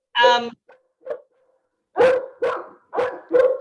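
A dog yelps briefly, then barks four times in a quick, loud sequence nearby, with short pauses between barks.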